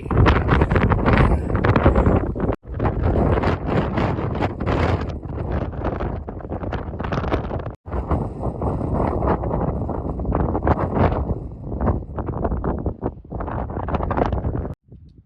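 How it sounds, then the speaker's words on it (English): Strong wind buffets the microphone on the summit of Mount Madison on the Appalachian Trail, a loud, continuous roaring rumble with gusty surges and two brief dropouts, no voices. "I'm on top of Madison and the wind is crazy."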